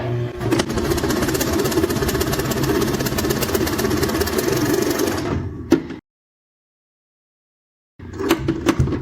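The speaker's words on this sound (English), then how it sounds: "Let's go ahead and press the pedal." A Singer sewing machine runs a wide zigzag stitch, a loud, dense, steady mechanical chatter that stops abruptly, falls silent for about two seconds, then starts again.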